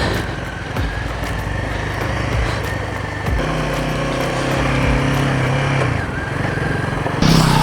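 A motorcycle engine drones steadily as the bike picks its way down a rocky downhill section on an off-road trail, loud and close throughout, with gear and throttle changes shifting its pitch and a sharp rise near the end.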